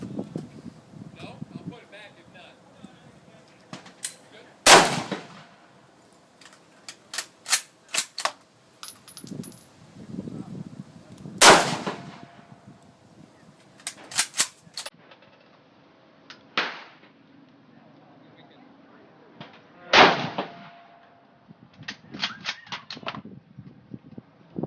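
A Type 53 carbine, the Chinese Mosin-Nagant, fired at a shooting range: three loud, sharp reports spaced several seconds apart, with bolt clicks, handling noises and someone talking in between.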